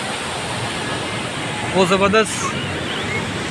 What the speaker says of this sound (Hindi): उसका पानी दरिया में आ रहा है।